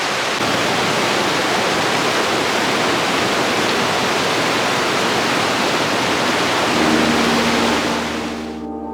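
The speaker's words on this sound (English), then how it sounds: "this is the largest waterfall I've seen so far in Colorado" A large waterfall in Colorado roars as a loud, dense, unbroken wash of falling water heard up close, fading slightly at the very end.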